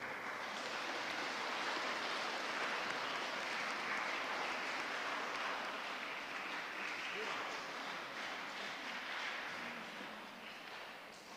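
A church congregation claps at a service welcoming a newly appointed parish priest, broad continuous applause that swells and then gradually fades toward the end.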